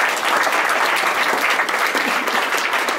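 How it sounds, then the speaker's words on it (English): A wedding reception audience claps steadily after a call for a round of applause at a speech, a dense, even wash of many hands throughout, with no talk over it. "A round of applause, please."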